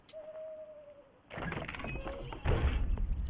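Owl in the video game Darwake: a single drawn-out, slightly falling hoot-like call. It gives way to louder, busier game noise.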